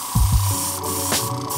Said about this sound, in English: just spritz a little bit, and then immediately jump into getting these areas painted